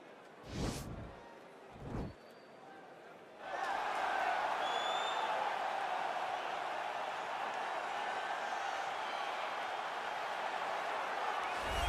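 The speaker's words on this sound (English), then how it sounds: "you hear the pop from the crowd, DC, as Nate Diaz gets set to make this walk" A large video game crowd in EA Sports UFC 4 roars in a sustained, loud wall of cheering that swells in after a couple of brief thumps and holds steady to the end.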